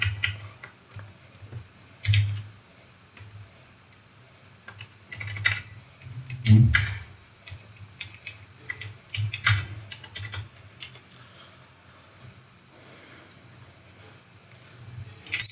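Code being typed on a computer keyboard, quick irregular bursts of close key clicks with short pauses between runs, loud in places over a low background hum.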